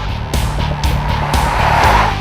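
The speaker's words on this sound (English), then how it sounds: "The engine has a pleasant gravelly sound and it is always quite smooth and peppy." Mercedes-Benz GL 350 CDI diesel SUV with a 255 bhp engine, heard driving: a steady, fairly loud gravelly engine drone with low rumble and repeated swells in intensity, no talking.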